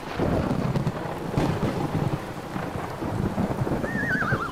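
Heavy rain pours down alongside rumbling thunder in a dense, loud wash, with a brief high whistling tone near the end.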